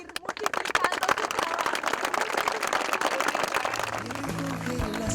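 Dense applause from a studio audience bidding farewell to Carlos on a Colombian TV show set, a steady wash of many hands clapping at once, with sustained musical tones rising underneath toward the end.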